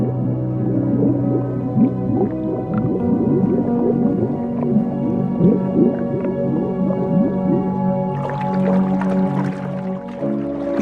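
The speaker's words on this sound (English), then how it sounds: "they communicate constantly using whistles," Dolphins underwater, producing dense overlapping whistles that sweep up and down continuously, with clicks and watery crackle building toward the end, loud and steady throughout.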